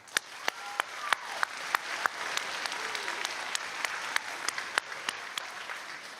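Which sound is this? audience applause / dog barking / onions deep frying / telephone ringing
audience applause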